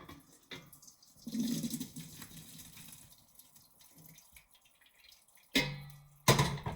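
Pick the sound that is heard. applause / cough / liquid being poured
liquid being poured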